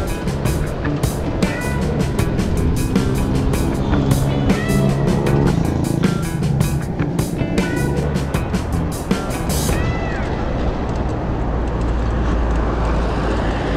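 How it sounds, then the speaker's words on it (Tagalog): Busy road traffic on the C5 extension, a continuous broadband rumble of passing vehicles with scattered sharp transient clatters and thumps over the first ten seconds before settling into a steadier low drone. "Traffic na."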